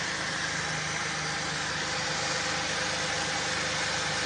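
A Suzuki Grand Vitara 3.2 engine runs just after a new drive belt and rollers are fitted, a steady, loud, unbroken idle hum with a constant mechanical drone throughout and no voices.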